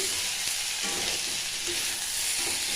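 Potato and pointed gourd curry sizzles steadily in a pan while being stirred, a close, even frying hiss with no talk.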